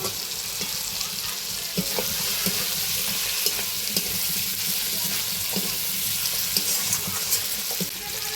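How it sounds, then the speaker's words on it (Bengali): Fried potatoes and cauliflower added to a cooked-down Bengali spice paste sizzle steadily and loudly in a pan, with occasional soft stirring taps, close up and without talk. "মশলাটা কষানো হয়ে গেছে, এবার আলু ফুলকপি ভেজে রাখা দিয়ে দেবো"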